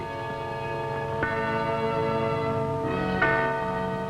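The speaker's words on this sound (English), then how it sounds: "This is the Freedom Bell to remind you that this is Radio Free Europe." The Freedom Bell of Radio Free Europe tolls in a 1950s broadcast, a sustained ringing tone rich in overtones, with fresh strikes renewing it about a second and three seconds in, clear and alone with no voices.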